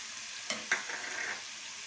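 Spices sautéing in hot oil in a pan for bhungra bateta, a soft sizzle with two brief stirring scrapes near the start, quiet and close with no talking.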